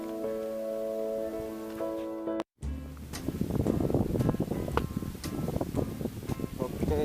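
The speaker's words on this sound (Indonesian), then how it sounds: "yalah, kita tunggu hujan reda ya." Rain falling at the Tanjung Batu fishing pier during bottom fishing, a steady dense patter with gusts of wind noise after a brief cut, close and fairly loud, following a stretch of tonal background sound.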